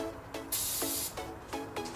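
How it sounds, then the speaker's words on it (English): Carb cleaner sprays onto the sway bar links of a 2004-2008 Nissan Murano, a series of short hissing bursts with one longer blast, close and fairly quiet, with no one talking. "then I spray them down with some catalyst"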